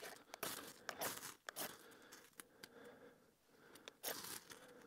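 A series of sharp scraping strikes of a scraper on a ferrocerium fire-starter rod, some clustered and some isolated, each a brief harsh rasp close up, with quiet crackly gaps between.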